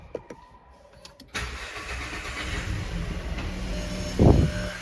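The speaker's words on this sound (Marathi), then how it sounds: "तर तुम्ही गाडीचा आवाज ऐका," A motorbike engine cranks and catches after a second or so of faint rustling, then settles into a steady close idle with a brief louder rev near the end.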